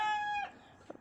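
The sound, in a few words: barnyard chickens clucking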